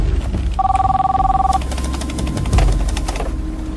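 Telephone ringing in a film scene, one short bright electronic ring burst at the start, followed by rustling and the handset being picked up. No speech is heard.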